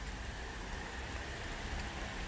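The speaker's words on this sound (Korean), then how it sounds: "비가 와요" Rain falls steadily onto grass and leaves outdoors, a soft, even hiss with no break and no voices.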